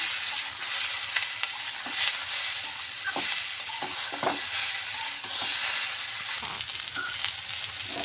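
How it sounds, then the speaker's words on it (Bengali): Cauliflower stalks and eggplant sizzle and crackle in a hot pan while being stirred, with steady frying hiss and scattered clicks of a spatula, close and continuous. "এখন এটা ভালোভাবে সবগুলো ভেজে নিচ্ছি।"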